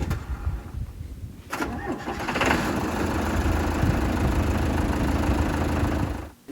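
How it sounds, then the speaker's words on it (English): A red Volvo semi-tractor engine starts with a short crank, then settles into a loud, steady diesel idle close by, cutting off at the very end. "that one is the red Volvo semi-tractor"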